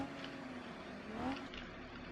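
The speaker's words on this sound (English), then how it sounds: "if I take off my exhaust, it's louder" Car engine in a drifting video game with the exhaust taken off, a faint, continuous droning rev that rises slightly midway, heard alone.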